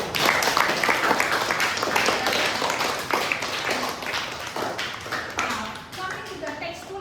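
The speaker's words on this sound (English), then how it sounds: "All of you clap for yourselves." Students in an online class clap for themselves after a quiz, a steady patter of scattered hand claps and taps lasting several seconds, mixed with children's voices and small thumps.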